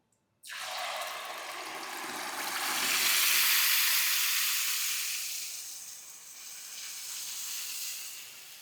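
Curry gravy hitting hot oil in a pressure cooker with bay leaf sets off an abrupt, loud sizzle that swells into a steamy hiss, eases, then flares again, steady and close throughout.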